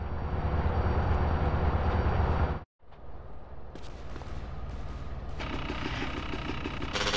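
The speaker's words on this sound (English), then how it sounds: "Follow that train!" A train in GTA San Andreas rumbles along with heavy, continuous low mechanical noise, briefly dropping out before returning with clattering, rattling layers.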